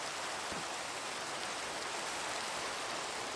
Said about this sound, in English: I mean, it's raining